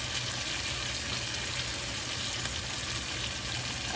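Steaks fry steadily in a pan with oil, butter and thyme, giving a constant dense sizzle with no voices over it.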